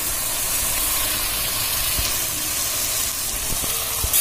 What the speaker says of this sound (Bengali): রসুন বাটাটা দিয়ে দিচ্ছি